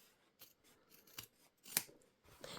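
Scissors trimming a corner of fabric, a few quiet snips and crisp blade closes, close and faint, with no talking.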